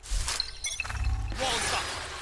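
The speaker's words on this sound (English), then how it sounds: "Sage's walls are coming down." Sage's ice wall shattering in Valorant, a loud crystalline crash with tinkling fragments, followed by a hissing wash of debris as it crumbles.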